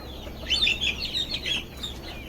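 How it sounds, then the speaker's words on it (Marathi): Native village chickens cluck and chirp softly in short bursts, fairly quiet against a steady low background hum, with no talking. "सर्व बसलेल्या आहेत ओरिजिनल गावठी अशा कोंबड्या आहेत"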